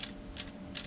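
An airsoft M4 magazine is wound by hand, giving a quick run of small ratcheting clicks in two or three close, faint bursts.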